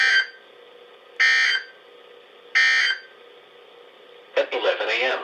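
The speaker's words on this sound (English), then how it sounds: "This ends the test of the National Weather Service weather radio warning alarm." National Weather Service weather radio warning alarm tone during a required weekly test: three evenly spaced loud electronic tone bursts separated by pauses, followed by a broadcast voice.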